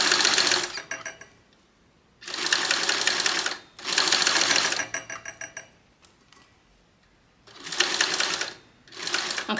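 A sewing machine stitches a fabric wristlet strap in loud close bursts of rapid mechanical chatter, about five runs separated by short pauses, with faint handling noise in between.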